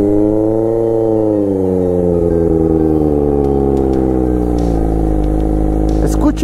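Kawasaki Ninja ZX250R 250 cc motorcycle engine revving loudly and close, its rich harmonic note climbing and then falling steadily over several seconds, with no talk over it.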